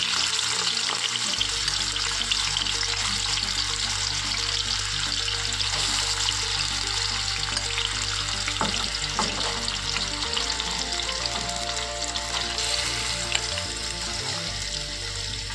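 Grated carrots frying in a pan for gajar halwa give a steady, loud sizzle that holds for the whole stretch, with faint scraping of stirring and no talk.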